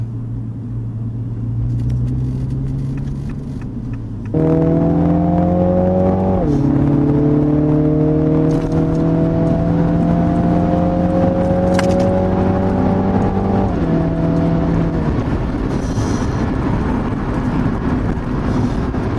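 A Mini Clubman JCW engine accelerates with a deep, throaty hum, rising in pitch through several gear changes, loud and steady inside the vehicle.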